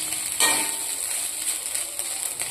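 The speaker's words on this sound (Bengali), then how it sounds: "এরপর ব্যাস আর কোনো ঝামেলা নেই, 2-3 মিনিট ভেজে নিলেই ব্যাস আপনার ভাত ভাজা একদম টোটালি কমপ্লিট" Leftover rice frying in a pan with sugar and biryani masala, a steady close sizzle with light stirring and scraping, no voices.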